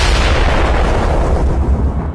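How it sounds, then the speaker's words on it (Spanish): An overloaded magic jewel explodes in an anime battle, a loud, dense roaring blast that fills the whole moment with rumbling low end and gradually thins out at the top as it fades. "Agarra otro por la espalda y sobrecarga su joya mágica para que explote."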